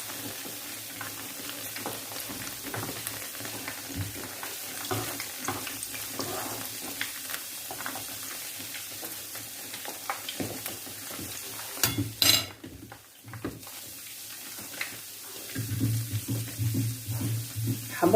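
Bajiya fritters frying in hot oil give a steady, close sizzle throughout, with occasional clatter as pieces are stirred and turned.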